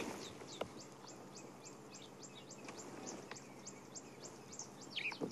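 Woodland kingfisher and other birds calling at dawn in wet African bush: a repeated series of sharp, high chirping notes at an even pace, moderately distant, over a faint constant background hiss, with a louder burst near the end.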